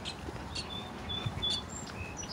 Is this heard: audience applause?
no